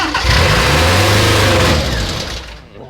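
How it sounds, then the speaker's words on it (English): A Morris Minor engine cranks and catches, running roughly with a loud, steady low rumble for a couple of seconds before dying away, heard up close with no talking. "Well, that fired up."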